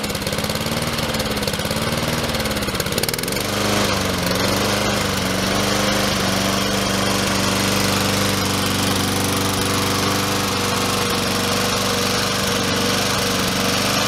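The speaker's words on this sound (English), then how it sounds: "Honda engines can really idle down nice and quiet." A Honda lawn mower engine idles low and steady for the whole stretch, a loud, close, continuous hum with a slight wobble in pitch early on and no voices.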